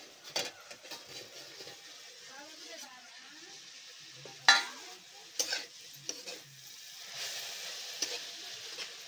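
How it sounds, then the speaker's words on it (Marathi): Chopped onion frying in a pan while being stirred, with a soft steady sizzle broken by scraping stir strokes and a few sharper clinks of the spoon against the pan. "आता कांदा चांगला परतलाय"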